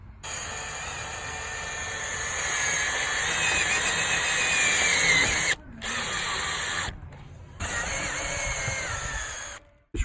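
A power drill drives screws into a window mullion during installation, a loud, steady whirring run that stops briefly twice, then resumes, ending with a short click; no talking.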